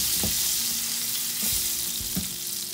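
Butter melting with olive oil in a frying pan, a steady bright sizzle throughout, broken by a few soft knocks and scrapes of a utensil stirring, close and fairly loud with no talk.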